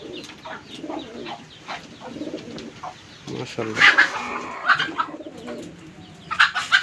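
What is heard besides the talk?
pigeons cooing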